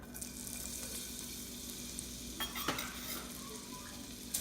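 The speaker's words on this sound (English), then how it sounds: "Let's saute this for a minute or so." Ginger sautéing in olive oil for a Filipino chicken tamarind soup, giving a steady, close sizzle with soft stirring scrapes and a few utensil clinks, no talking.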